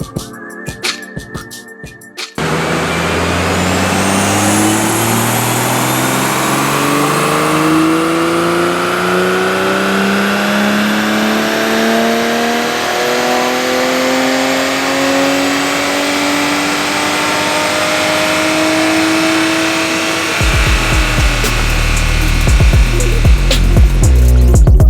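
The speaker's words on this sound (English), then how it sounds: "the turbo is so loud" Stock Toyota A90 Supra pulling hard on a dyno, a loud, steadily rising engine note with prominent turbo whine climbing over about eighteen seconds, then cutting off into rattling, clattering deceleration noise.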